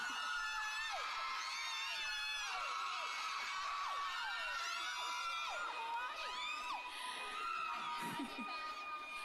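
Loud, sustained screaming and cheering from a big crowd of fans at a fan meeting in Surat Thani, many shrill voices overlapping with whoops rising and falling throughout.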